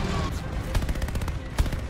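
Gunfire from the Call of Duty: Vanguard campaign rattles in rapid bursts of loud, close shots over dense game noise, with a heavier blast standing out near the end.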